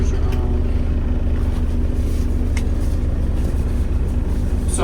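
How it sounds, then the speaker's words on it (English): Motor yacht engines and thrusters run on the Hudson River, a steady low droning hum with a constant tonal whine, held at an even level throughout without talk. "Engine load. Thrusters are on."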